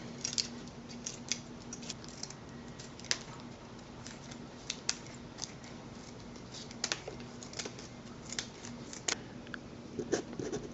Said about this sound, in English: I'm going to cut up pieces of foil as well as cardboard